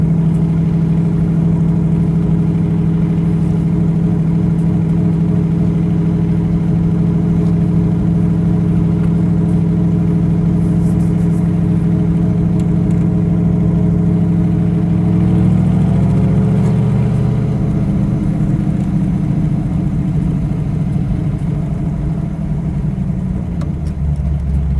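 A 1964 Shelby Cobra 289 replica, a USRRC/FIA-style car, cruises at low speed with a steady, loud V8 drone up close, then the engine note shifts partway through as it eases on the throttle.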